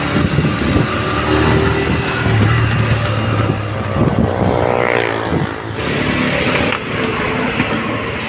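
Suzuki GS motorcycle engine running on a TMX 155 carburetor: a loud, continuous idle rumble with a steady throb close by, holding fairly even throughout.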